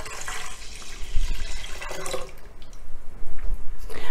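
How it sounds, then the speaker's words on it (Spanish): Water being poured into a pot already holding milk, a splashing, gurgling stream close by that swells and eases over a few seconds, with no talk over it. "Ahora vamos a incorporar el agua."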